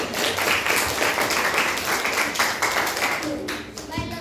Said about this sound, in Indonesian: Oke, berikan tepuk tangan untuk kita semua.